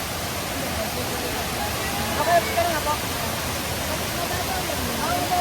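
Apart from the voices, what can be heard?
water flowing from a cave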